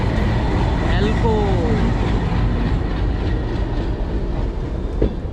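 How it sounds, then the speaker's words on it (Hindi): A passing train hauled by an ALCO diesel locomotive rumbles loudly and continuously with a steady wheel roar and faint high squeals, while someone talks over the noise. "देखो भाई दोबारा से डीजल लोकोमोटिव"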